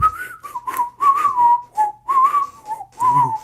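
A person whistles a clear, wavering tune in short phrases with brief pauses between them, close to the microphone and heard alone.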